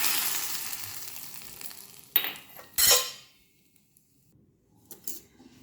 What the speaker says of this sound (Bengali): দিয়েই সাথে সাথে রাঁধুনিটা আমি তরকারির ওপরে ঢেলে দিচ্ছি,